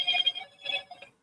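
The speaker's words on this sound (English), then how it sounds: "we'll answer the phone right quick" A telephone rings in short electronic trill bursts, two clear rings close together, moderately loud with no talk.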